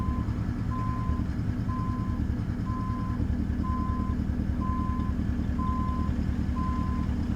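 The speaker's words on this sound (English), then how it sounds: "So now you got to back up all the way to that other wall by that box truck." A truck in American Truck Simulator sounds steady, evenly spaced reversing beeps, about eight of them, over a constant low engine rumble.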